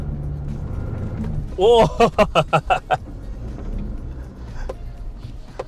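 A car revs hard during an off-road traction test, its engine surging in several rhythmic bursts of throttle that are loud and close, with a voice briefly exclaiming over it.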